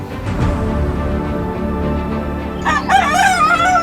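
A rooster crows loudly and close by, following a stretch of clucking and general fowl noise from Chinese chickens at a nature sanctuary by the sea in Initao.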